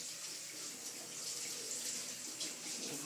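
A young girl brushing her own teeth at the sink, with the tap running in a steady, close, broadband gush of water throughout.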